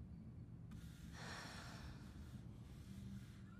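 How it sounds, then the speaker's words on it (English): The character Ellie in The Last of Us Part 2 breathes heavily, a faint gasping, sighing breath that swells in the middle and trails off, quiet and close with no talking. "What's with the heavy breathing?"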